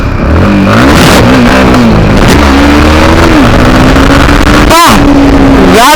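A Yamaha MT 15 motorcycle accelerates hard, its engine note climbing sharply through the gears with rising whines and a quick gear-change break, loud and close with wind roar.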